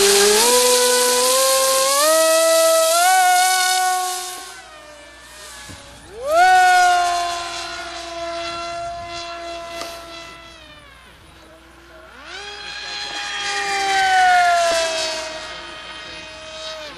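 A HobbyKing SkyFighter V3 RC plane on a 7x8 prop screams through several high-pitched passes, its electric motor whine rising and falling as it swoops near and away, with people talking in between.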